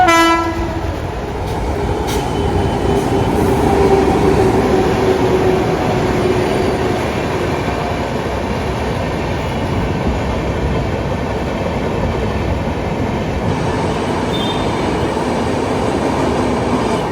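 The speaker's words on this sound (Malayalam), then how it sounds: "നമ്മൾ അവിടെ നിന്ന് ഇങ്ങോട്ട് പൻവേൽ വന്ന മെമു ആണ് ഇത്." A MEMU passenger train near Panvel rolls past with a long, loud continuous rumble and rattling wheels, a horn sounding at the start, with no voices.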